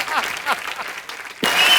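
Audience applause for singer Sukhwinder Singh on a comedy show stage, a burst of clapping that swells loudly near the end, mixed with speech.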